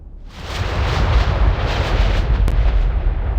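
A heavy crash of thunder rolls out loud and deep, a sustained booming rumble with a sharp crack partway through, no talk over it.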